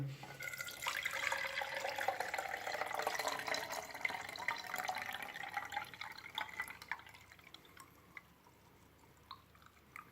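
Homemade banana peel fertilizer liquid strained and poured into another vessel, a steady close pouring and trickling that fades after several seconds into scattered drips.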